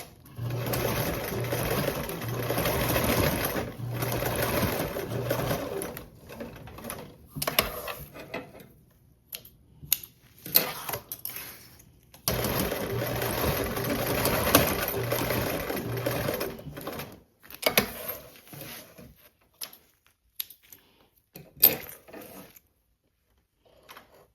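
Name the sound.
sewing machine basting fabric seam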